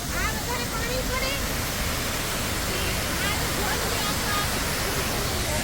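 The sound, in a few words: waterfall, water falling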